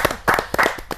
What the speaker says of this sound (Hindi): तालियां इसलिए बजवा रहा हूँ क्योंकि बाद में भरोसा नहीं है